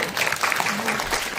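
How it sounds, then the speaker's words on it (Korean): An audience at a tenth-anniversary barefoot-walking symposium claps steadily in a short, dense burst of applause that fills the hall from start to finish. "저기 우리 박수를 한번 쳐주세요."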